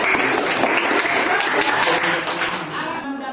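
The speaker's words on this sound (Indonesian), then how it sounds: "tepuk tangan ya" A classroom of students claps steadily in a short burst of applause after an optics lesson, dense and even throughout, then thinning out at the end.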